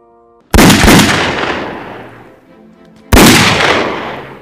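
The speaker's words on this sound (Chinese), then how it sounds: "安娜用手枪送走了这头野鹿" Two loud pistol shots, a second or two apart, crack close by and each leaves a long decaying echo; in a film, the pistol is fired to kill a wounded deer, with no voices.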